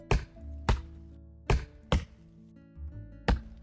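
An axe chops gold wood in the video game Roblox Lumber Tycoon 2, with five sharp, close thunks at uneven intervals and no voices.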